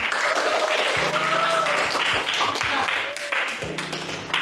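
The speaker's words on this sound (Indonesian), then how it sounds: "Tepuk tangan dulu dikit." A classroom of students breaks into a burst of applause, dense clapping that holds for several seconds, with voices talking over it.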